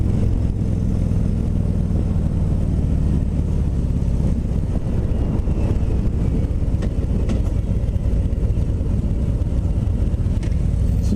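A 2019 Harley-Davidson CVO Road Glide FLTRXSE on a demo ride, its engine a steady low rumble mixed with heavy wind buffeting on the microphone, continuous and close throughout with no talking.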